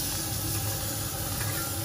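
Cauliflower frying in butter in a hot pan gives a steady, close hiss of sizzling, even and continuous throughout with no talk.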